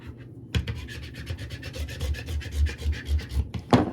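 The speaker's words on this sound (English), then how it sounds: "Stopping and rubbing and lifting and turning." Cut vinyl is weeded after a Scan n Cut cut, with close, fast rhythmic rubbing strokes that scrape in quick repeated bursts over a table surface.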